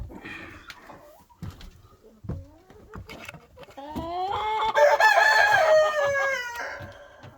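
Roosters crow loudly and in long stretches while chickens cluck in short bursts nearby, with a brief, faint voice in the mix.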